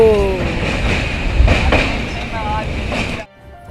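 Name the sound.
Mithila Express train running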